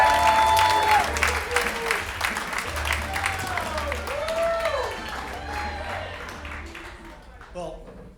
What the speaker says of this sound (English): How about a big round of applause for Joe Mahoney?